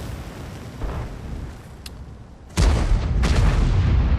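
A tank cannon fires in World of Tanks, a sudden loud boom that cuts in partway through and rumbles on with a broad, sustained roar, preceded by quieter game ambience and a faint distant thud.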